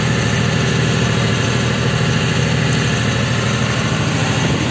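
A tractor drives across a field spraying winter wheat, its engine giving a loud, steady, close low drone with a rhythmic throb and vibration, and no break for the whole stretch.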